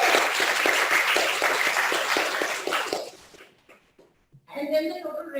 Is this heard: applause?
yes